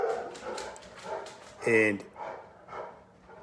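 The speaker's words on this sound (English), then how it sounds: "Sorry for the dogs walking back there." Dogs somewhere behind a man give a short, high whimpering yip under his steady talking indoors, then fall quiet.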